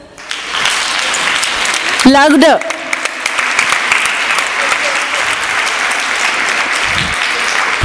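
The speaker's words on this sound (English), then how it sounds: "give her a big round of applause." An audience at a conference talk breaks into loud, sustained applause that carries on steadily, and a voice calls out briefly near the start.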